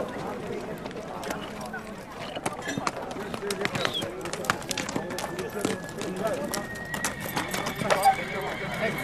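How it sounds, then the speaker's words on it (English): A large horse being test ridden at a Central Asian horse trade neighs and whinnies while its hooves clip-clop, with people talking and shouting around it outdoors. "Now they're asking to test ride my biggest horse, Martin."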